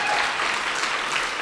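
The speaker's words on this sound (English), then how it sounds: "I would really like everybody to give David a round of applause for the amazing work that he did in this election" Steady, dense applause from an audience at a student election results announcement, continuous and loud throughout with no gaps.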